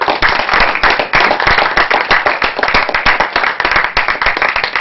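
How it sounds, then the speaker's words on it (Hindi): Loud, sustained clapping from an audience at a stage play, dense rapid hand claps with sharp individual slaps standing out, continuous throughout. "जोरदार तालियां दोस्तों पूजा"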